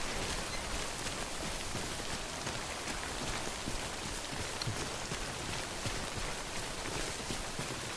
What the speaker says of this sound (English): When's it gonna stop raining?